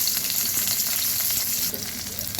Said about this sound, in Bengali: দেখো সর্ষের তেল আমার গরম হয়ে গেছে। এবারে এর মধ্যে আমি পেঁয়াজগুলো দিয়ে দেবো।